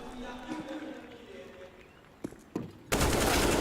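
AK rifle fire in Counter-Strike during a pro match: a commentator talks, two short sharp cracks sound, then loud continuous gunfire bursts in abruptly and fills the final second.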